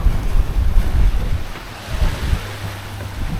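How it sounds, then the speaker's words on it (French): Steady wind rushes over the microphone while waves wash against a moving sailboat in a 12-knot wind, loud and continuous, with low rumbling gusts. "Il y a le vent qui se lève un petit peu là."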